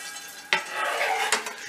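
Potatoes fry in oil in a pan with the heat on, giving a steady close-up sizzle broken by two sharp clinks of a utensil against the pan.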